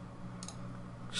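Two quick, faint computer mouse clicks, spaced about a second apart over a quiet room hum, during 3D head modeling.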